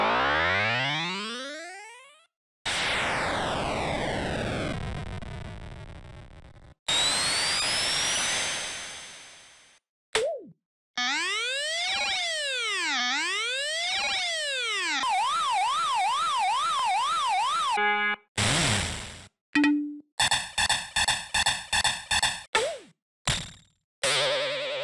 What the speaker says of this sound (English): These range from buzzers, to vibrating sounds, to footsteps.